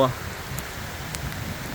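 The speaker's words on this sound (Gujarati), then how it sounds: "આ જો વરસાદે આવી ગયો છે" Rain falls outdoors on a farm in a steady, soft patter of drops with faint rustling. The sound is quiet and continuous after a brief louder sound at the very start.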